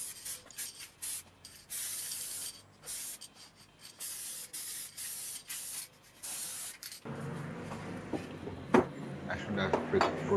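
Aerosol can spraying lacquer onto a rusty Lotus Elise S1 blower housing, a run of short and longer hissing bursts for the first seven seconds, then quiet clattering handling noises.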